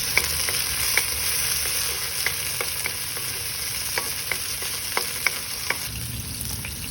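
Onions and tomatoes stir-fry in a pan with a steady, close sizzle, punctuated by light, regular clicks of a utensil against the pan.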